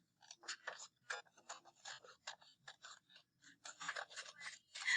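Scissors snip through paper to cut out a shape for a craft tree, a close series of quick, crisp cuts in an uneven rhythm with short pauses between them.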